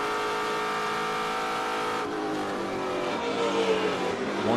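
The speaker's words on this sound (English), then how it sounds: "Car sounds amazing" A TA2 race car at speed on the VIR road course, its engine a loud, sustained high-revving roar that holds steady and swells slightly near the end, with no talk over it.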